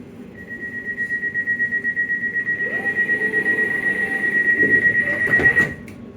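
A London Overground train runs between Bethnal Green and Liverpool Street, its wheels letting out a long, steady high-pitched squeal over a rhythmic rumbling clatter that swells toward the end and then cuts off.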